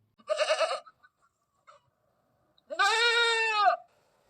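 Two loud goat bleats, the first short and quavering, the second longer and drawn out, separated by a brief quiet gap.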